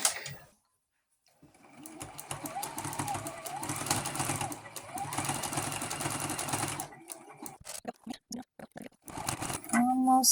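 A home sewing machine runs an overcast stitch along the edge of a split ruffle skirt in fast, steady bursts, stopping and restarting several times with brief clicks and pauses between runs.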